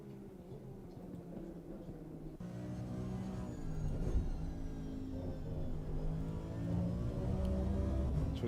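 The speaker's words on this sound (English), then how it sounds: "Brandon Cole now is actually the fastest car on track coming into turn 1" Race car engine in the Assetto Corsa Competizione video game at the Monza circuit, a sustained harmonic drone that gets louder after about 2.4 s and keeps climbing in pitch and intensity as the car accelerates.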